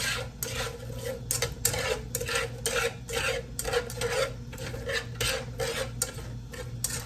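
Onions cook in a pan for a veggie pasta while a utensil scrapes and stirs them in quick, repeated rasping strokes over a low, steady background.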